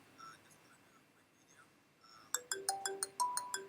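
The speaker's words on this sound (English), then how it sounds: "It's actually ringing at my 3CX client, which proves that that number is now working." A 3CX softphone client rings for an incoming call through a Twilio SIP trunk, a series of bright, evenly spaced electronic ringtone chirps starting partway through after quiet room noise, fairly close and clear.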